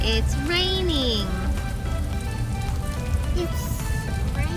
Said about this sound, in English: It's raining because it's the rainforest.